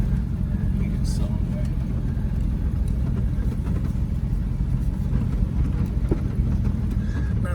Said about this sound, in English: Engine really hasn't gotten any warmer since sitting here and idling